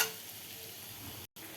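Watermelon rind sizzles steadily in a pan as it softens, a soft continuous frying hiss that cuts out briefly near the end before resuming.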